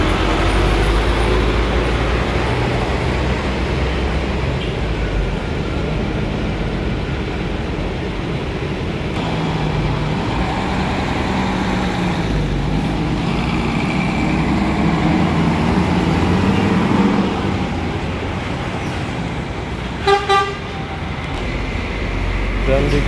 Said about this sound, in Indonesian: Berikutnya ada bis Mustika AC Ekonomi berangkat tujuan ke Semarang.